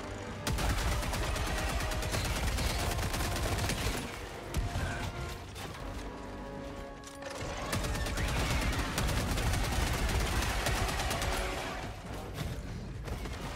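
Tenderizer gunfire in a video game rattles out as long, fast automatic streams, loud and continuous with a mechanical clatter, broken by a brief pause for a reload.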